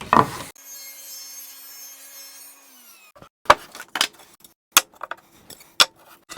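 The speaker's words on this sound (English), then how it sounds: "So what I'm going to do is rip this about half and half with a 45-degree bevel." A saw rips pallet wood at a 45-degree bevel, a brief loud burst followed by a steady ringing whine that winds down, then several sharp knocks and clatters of wood being handled.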